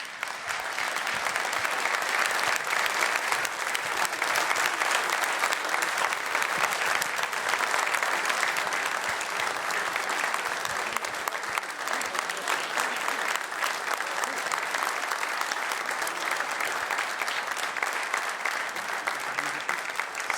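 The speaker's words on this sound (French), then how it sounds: "les applaudissements et les remerciements" Sustained applause from an audience at a French federation press conference, steady dense clapping lasting about twenty seconds without a break, fairly loud and even throughout.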